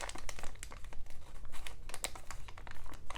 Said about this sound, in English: flip this over and simply valley fold this flap upwards